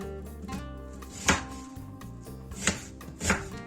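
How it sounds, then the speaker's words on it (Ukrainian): A knife cuts through an onion on a board, with three crisp chopping strokes spaced unevenly over soft background music. "Нарізаємо цибульку"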